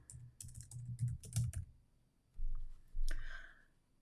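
Keys clatter on a computer keyboard while text is entered in LightBurn laser software, a few quick bursts of clicks followed by two heavier, duller thumps near the end.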